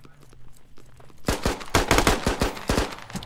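Automatic gunfire in the military shooter game Squad rattles out as a rapid, loud, sustained burst of close shots after a quieter moment.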